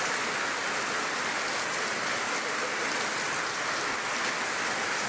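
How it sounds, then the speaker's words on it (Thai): Steady, dense rain falls while water flows along a stream, forming a continuous close hiss with no voices. "บรรยากาศมันฝนตก"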